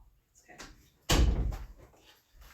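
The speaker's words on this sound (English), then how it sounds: "Let me close this door because these dogs are going crazy." A door shut in a home with dogs around, giving one sharp, loud slam with a brief rattle afterward, amid quieter shuffling noises before and after.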